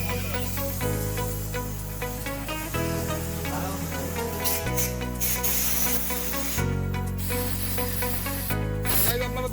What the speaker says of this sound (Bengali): সো আমরা এটা একদম অকটেন দিয়ে ভালো করে ওয়াশ করে